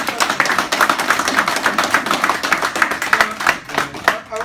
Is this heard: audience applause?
yes